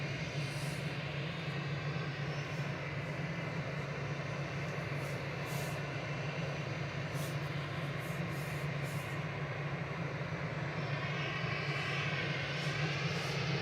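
Ryanair-type Boeing 737-800 airliner at Manchester Airport, a sustained low engine drone with a humming core, steady and fairly distant throughout, no speech.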